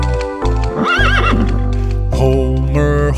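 A horse neighs loudly in a long, shaky whinny, followed by further snorting and whinnying calls close to the listener, with a hint of hoof clip-clop.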